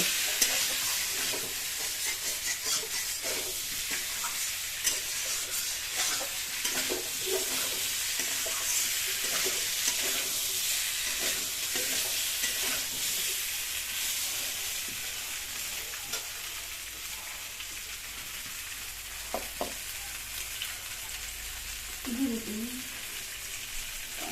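New potatoes sizzling in a pan for spiced kosha aloo dum, stirred with a spatula; steady frying hiss throughout with scattered scraping stirs and a faint voice near the end.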